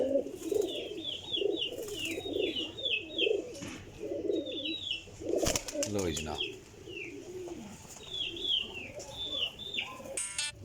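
Champion pigeons coo in repeated rolling phrases, close by, with a brief wing flutter midway, while someone talks over them.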